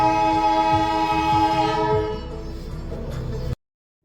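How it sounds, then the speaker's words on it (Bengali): The Darjeeling toy train sounds a long, loud, steady horn as it approaches, holding for about two seconds before it drops to a softer rumble and cuts off abruptly. "দূরে দেখো টয় ট্রেনটা চলে আসছে সামনে।"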